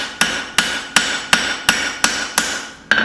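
Eight sharp, ringing hammer blows strike a knife blade on an anvil at an even pace, each a bright metallic clang with a short decay, close and loud with no voices.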